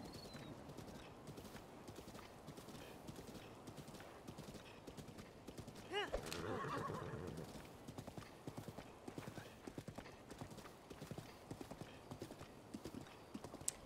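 Horses in The Legend of Zelda: Breath of the Wild clip-clop steadily throughout, with a brief neigh partway through, heard quietly under game ambience.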